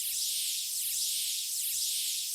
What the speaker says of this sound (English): Mostly white noise.